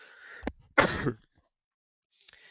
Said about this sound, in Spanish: disculpad, la tos